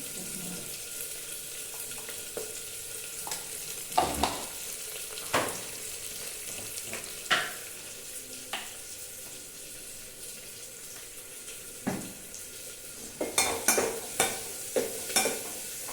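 Onions with curry leaves and spices sautéing in oil in a pan, a soft continuous sizzle broken by intermittent scraping clinks of a spoon stirring, close by and without talking.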